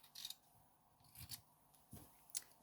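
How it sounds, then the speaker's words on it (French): Scissors cutting fabric: several crisp snips and blade scrapes spaced irregularly, close and quiet, with no voice. "Donc là, je coupe. Là, j'y vais avec les ciseaux"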